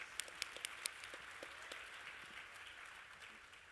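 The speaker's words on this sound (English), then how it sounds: "Claps for that." Luncheon audience claps, a few sharp, close claps standing out at first before settling into a softer, diffuse patter of applause that fades gradually.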